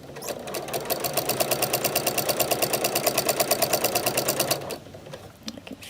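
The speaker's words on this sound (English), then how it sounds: "Now I am going to continue sewing this binding up till 1/4 inch, and then I'm going to take it out of my machine." A sewing machine stitching scrap binding onto a quilt runs in a steady rapid rhythmic whir for about four and a half seconds, then stops, leaving faint handling sounds.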